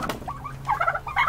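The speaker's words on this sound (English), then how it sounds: "They're fucking huge ass birds." Large wild turkeys calling nearby, a few short, quick gobbling and clucking bursts in an uneven rhythm over a faint background, with no talk.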